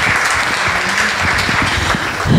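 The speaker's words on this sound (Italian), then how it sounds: "Facciamo un applauso a Lidia Grassi." Loud, dense audience applause at a conference on astrology, steady continuous clapping close up with no voices over it.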